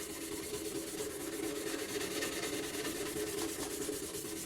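A chef knife blade is hand-sanded with 600 grit paper, giving a quiet, steady scratchy rubbing made of quick, even back-and-forth strokes with no pauses.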